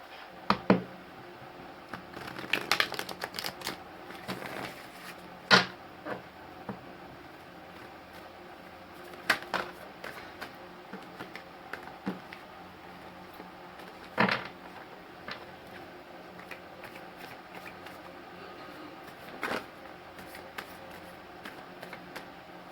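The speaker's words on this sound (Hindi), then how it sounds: "तो 4 कार्ड्स यहाँ से निकालेंगे।" Tarot cards are shuffled and drawn by hand during a reading, giving soft, close rustles, flicks and light taps scattered irregularly over a quiet room hum, with a few sharper card snaps.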